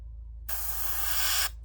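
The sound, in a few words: airbrush spraying lacquer paint on a model car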